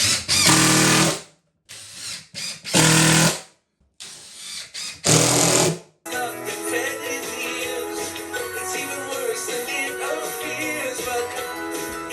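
A power drill driving screws into a bathroom subfloor, several short loud whirring bursts with pauses between them, followed by steady background noise.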